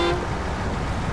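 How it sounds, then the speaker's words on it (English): A truck horn honks once in the off-road driving game SnowRunner, a short loud blast at the start that fades into steady engine and ambient rumble. "I guess I could honk."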